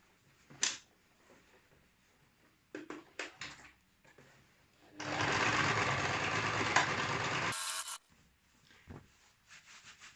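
A Singer home sewing machine stitches a cord table runner in one steady run of about three seconds, framed by soft handling rubs and taps of the fabric.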